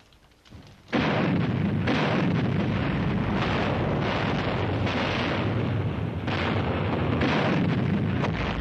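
Naval shells pound an island in a sustained, loud barrage of rumbling blasts and booming detonations after a brief quiet start, heavy and continuous for the rest of the clip.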